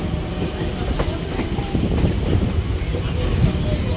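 A local train from Krishnanagar rolls into Sealdah station, a close, steady rumble of carriages with rhythmic wheel clatter and some wind buffeting. A voice can be heard faintly beneath it.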